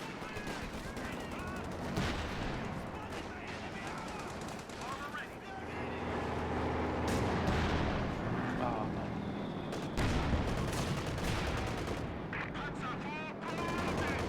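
Gunfire and artillery from a Company of Heroes 2 match, dense bursts of machine-gun fire and booming shells, with a commentator talking over the constant battle noise.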